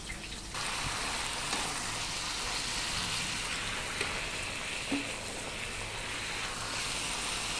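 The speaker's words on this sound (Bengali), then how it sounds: "পেঁয়াজ কষা চলছে" Onions sizzling in a pan for chilli chicken, a steady, fairly quiet crackling fry with occasional pops, heard close and uninterrupted.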